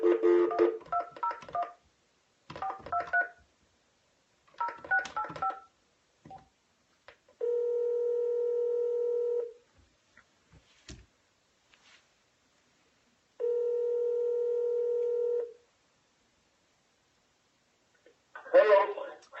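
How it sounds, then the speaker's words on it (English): Touch-tone dialing on an old landline phone, with three quick clusters of beeping key tones, then two long steady ringing tones separated by near silence, and a brief burst of sound at the end. "I know I'm calling on a landline, on a dinosaur phone"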